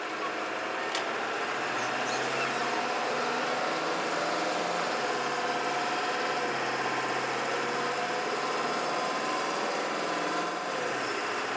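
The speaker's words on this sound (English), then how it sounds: "See what the noise level goes up to with a little bit of spirited driving." A Ford F-series pickup engine fitted with an intake mod hums at low cabin volume during spirited driving, a faint steady drone with slight rises in pitch and no talk.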